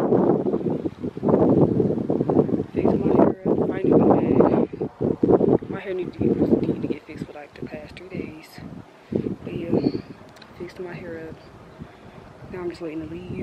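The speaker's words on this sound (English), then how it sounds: "It's too windy out here for my liking." Wind buffets the microphone outdoors in rough gusts while someone talks over it throughout.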